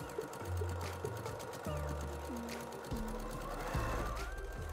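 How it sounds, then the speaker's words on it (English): A sewing machine stitches quilt binding, sewing over existing stitches with a close, steady mechanical whir and rhythmic needle knocking, pausing and restarting several times. "so you can see I'm sewing over the threads I already had put in place"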